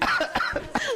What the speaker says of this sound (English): I'm going to start coughing too.